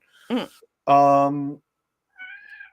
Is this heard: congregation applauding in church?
no